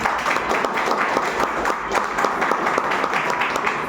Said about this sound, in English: it's a huge applause for yourself. Please clap for yourself.